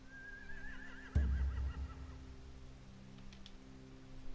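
A single horse whinnies with a rising, quavering neigh, followed by a heavy thump and faint rustling in an otherwise quiet setting.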